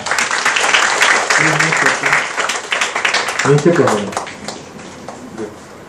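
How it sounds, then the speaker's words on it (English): An audience claps at an educational session, dense applause filling most of the six seconds and tapering off near the end, with voices heard over it. "So give her a big clap."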